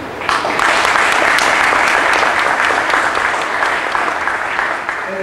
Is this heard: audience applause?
yes